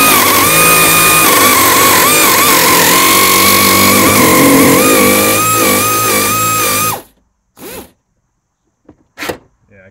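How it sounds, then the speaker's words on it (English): Pneumatic nibbler cutting a fuel pump access panel in the sheet metal of an 86 Trans Am, a loud continuous harsh buzzing chatter for about seven seconds, then stopping abruptly with a few short knocks and scrapes afterward. "this nibbler keeps jamming up on me, so just to give you an idea of how hectic this thing is to use"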